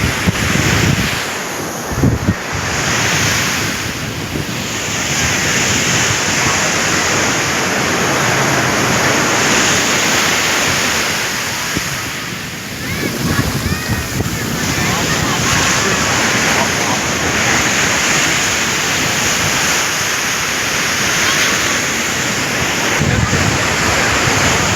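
Sea waves at Versova beach in Mumbai roar in a broad, steady surf wash, heavily mixed with buffeting wind noise on the microphone, loud and continuous throughout.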